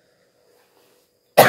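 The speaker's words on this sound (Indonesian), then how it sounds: "Maaf ya teman-teman, soalnya saya lagi batuk pilek." A person with a cold gives a single sharp cough at the very end, after a moment of near silence.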